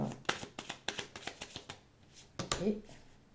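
Tarot cards being laid out, a quick run of crisp card flicks and slaps up close, then a pause and a last soft shuffle with a brief voice.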